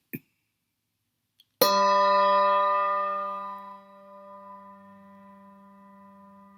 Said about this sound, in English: Our biggest bell is a G3